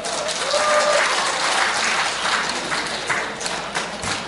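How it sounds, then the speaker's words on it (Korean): Sustained applause and some cheering from an indoor crowd at a fan club launch rally in a civil defense training hall in Gumi, steady and fairly loud throughout with no talking over it. "여러분 스스로에게 큰 박수와 함수 부탁드립니다"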